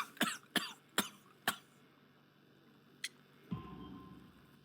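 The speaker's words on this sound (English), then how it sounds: "You have a severe cough." A man coughs in Sherlock Holmes: The Devil's Daughter, a coal miner with a severe cough: four sharp, close coughs in quick succession, a lone smaller cough after a pause, then a low rumbling throat sound.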